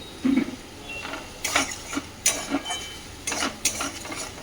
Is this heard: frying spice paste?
yes